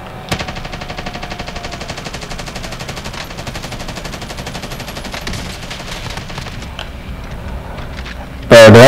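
Sustained automatic gunfire from a gun on the new Warzone map, a long continuous burst of rapid shots, loud and close, ending in a sharp louder blast.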